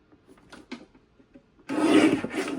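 Cardstock for slimline cards is trimmed on a paper cutter: soft taps and light handling, then a loud, sustained scraping slide of the blade through the sheet, close and alone.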